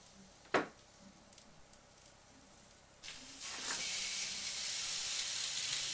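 Chicken hits a hot grill with a sudden thump, then a broad hissing sizzle rises and holds steadily, loud and close, after a quieter start.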